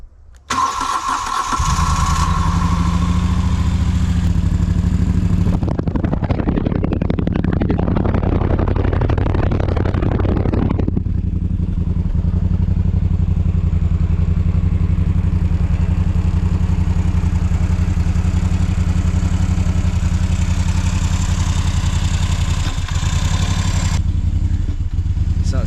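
A Moto Guzzi Griso motorcycle that has sat unused cranks, fires and settles into a loud, steady close idle with slightly uneven running from unbalanced throttle bodies.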